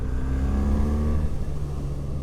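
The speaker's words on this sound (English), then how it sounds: "The engine, 1300 cc's of glorious boxer twin," A 2025 BMW R 1300 R motorcycle's 1300cc boxer twin engine running on the road, a loud, steady throbbing drone with a rising tone, close by.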